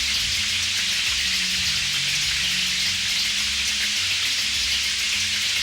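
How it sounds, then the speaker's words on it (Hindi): Steady rain pours down as a continuous, even hiss with no breaks, carried under a faint low background hum. "बारिश पसंद है तुम्हें?"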